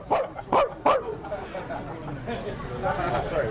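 A man imitates a dog, letting out three sharp, close barks in quick succession before continuing to talk casually.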